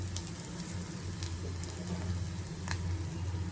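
Onions frying in a pan for kakarakaya pulusu, a steady close sizzle with occasional louder crackles, and no talk over it.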